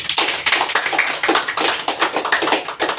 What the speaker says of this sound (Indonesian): Beri aplaus kepada Adit dan Dea.